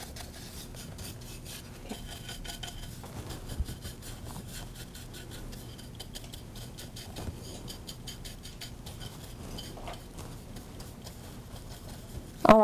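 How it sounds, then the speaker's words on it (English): Brush scrubbing wax into painted furniture, a soft continuous rasping rub with uneven strokes, fairly quiet and close, with no talking. "You really scrub it in there so that you can get into all of your nooks and crannies."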